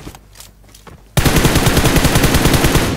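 Gunfire in a shooting video game as two teams fight: a quiet start, then sudden loud, sustained rapid automatic bursts filling the rest.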